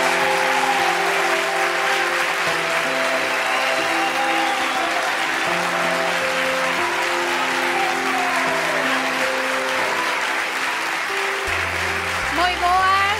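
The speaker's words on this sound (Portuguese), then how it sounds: "É que aplaudides tanto que non me escoitan" A television studio audience applauds loudly and continuously, a dense sustained clatter under a host's voice and background music.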